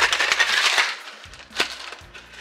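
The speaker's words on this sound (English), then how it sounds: "we just need to get some ice in our shaker and shake this thing up" Ice shaken hard in a cocktail shaker while mixing a Remember the Maine, a Manhattan-style drink, giving a dense, loud rattle for about a second that then thins to scattered clinks and one sharp knock, with no talk.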